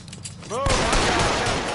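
Gunfire from a shootout in a video game: a brief rising whine, then dense, continuous volleys of loud shots that carry on without pause to the end.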